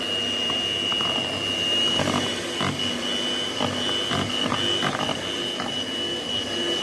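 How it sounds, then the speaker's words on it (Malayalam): Electric hand mixer beating a papaya ice cream mixture in a bowl, a steady loud whirring motor drone with a high whine running throughout, with faint knocks of the beaters against the bowl. "നന്നായിട്ട് ബീറ്റ് ചെയ്ത് കൊടുക്കുക."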